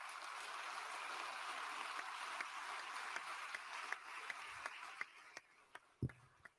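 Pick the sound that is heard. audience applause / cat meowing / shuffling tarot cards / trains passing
audience applause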